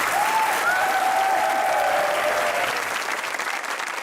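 A studio audience keeps up sustained applause for guests on a television talk show, a dense even clapping that fades slightly toward the end.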